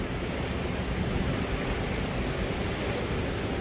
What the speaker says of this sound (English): But now it's cold and windy.